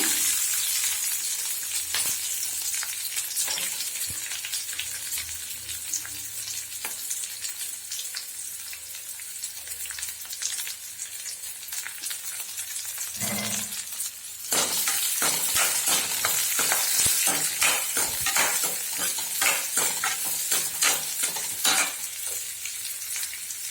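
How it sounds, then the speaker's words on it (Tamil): Onion, curry leaves and green chillies sizzle steadily in hot oil in a pan for a bottle gourd stir-fry, with repeated stirring scrapes and crackles, the frying growing louder midway. "இப்போ வெங்காயம் கருவேப்பிலை பச்சை மிளகாயெல்லாம் போட்டுக்கலாங்க"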